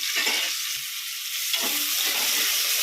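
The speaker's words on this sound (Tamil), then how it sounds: "கடுகு பருப்பு போட்டால் எண்ணெய் ஊற்றி இந்த வெங்காயம் போடுறேன்" Onions hit hot oil with mustard seeds and dal, a loud close crackling sizzle that holds steady, with stirring scrapes and no talking.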